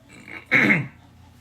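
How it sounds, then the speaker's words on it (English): A single short, close throat clearing, a rough guttural rasp lasting about a third of a second, standing alone in a quiet room. "sorry, I keep clearing my throat."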